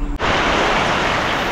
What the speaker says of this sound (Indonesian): Hujan petang-petang dekat Kurau Stone.